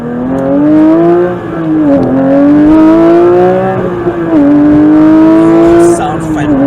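A 2022 Porsche 911 GT3 engine howls loud and close, climbing through revs in long rising pulls with brief dips between gear changes, while a voice talks faintly underneath.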